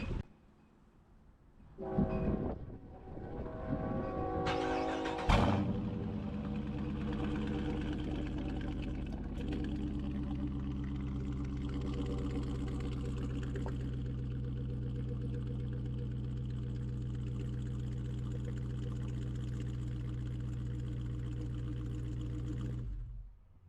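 A 2022 Dodge Charger R/T with a 5.7-liter V8 Hemi engine cranks briefly, fires up loudly, and then settles into a steady, deep, rumbling idle that lasts for about twenty seconds with no talking over it.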